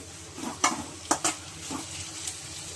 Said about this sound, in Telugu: ఉల్లిపాయ, పచ్చిమిర్చి, క్యాప్సికమ్ అండి. క్యాప్సికమ్ వేస్తాను. కొంచెం వేగాలి.